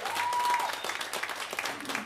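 Audience applause fills a hot, brightly lit performance venue, a dense patter of many hands clapping steadily at moderate volume with a faint voice mixed in.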